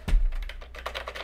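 Keys clatter on the keyboard of a Colecovision ADAM computer, a short burst of a few close, quiet keystrokes heard alone.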